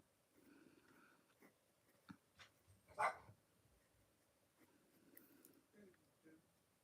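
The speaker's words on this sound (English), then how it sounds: "That was my dog Ozzo." A pet dog barks once or twice in a room during a livestream, a brief muffled bark standing out from quiet background and soft movement.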